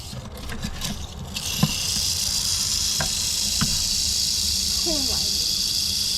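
Rattlesnake found in an Arizona backyard rattling its tail, a continuous close hissing buzz under outdoor background noise with a few brief clicks.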